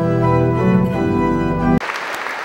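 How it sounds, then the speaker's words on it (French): Church congregation at a festival Mass applauding after a sung reading, clapping heard under sustained organ or choir tones before the music cuts off, then loud dense clapping continues alone. "Vous avez raison d'applaudir,"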